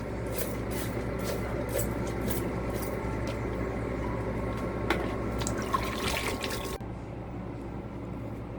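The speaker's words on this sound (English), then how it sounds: "you just give it a spray" Spray bottle misting water onto houseplant leaves: a series of short hissing spritzes in quick succession, close and moderately loud over a steady background hum, then stopping abruptly near the end.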